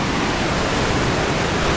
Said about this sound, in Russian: вот те вот большие волны